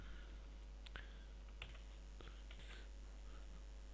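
Keystrokes on a computer keyboard while a formula is entered in an Excel spreadsheet, a few scattered clicks over about four seconds against a faint steady hum, with no talking.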